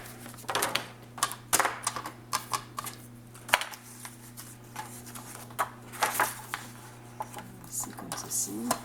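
Scissors cut two pieces of paper for a pop-up card, producing a series of short snipping and rustling bursts in an irregular rhythm. A steady low electrical hum runs beneath them.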